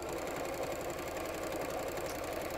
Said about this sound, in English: I put the walking foot onto my sewing machine. So it might be a little bit noisier.